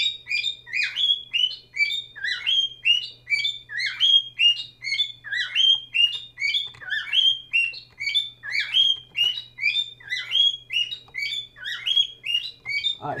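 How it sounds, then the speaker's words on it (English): A bird in a room chirps rapidly and continuously, repeating bright high calls in quick rhythmic bursts, loud and close over a low electrical hum. "Shut up, bird."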